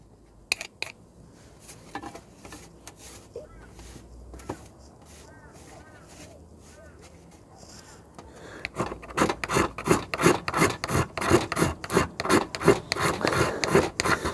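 Magnesium fire-starter block scraped to raise shavings, faint scattered scrapes at first, then a close run of quick, repeated rasping strokes growing louder toward the end.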